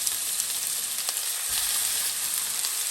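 Turkey burgers fry in a large preheated non-stick pan with a steady, close, crackling sizzle that holds throughout, with no voices.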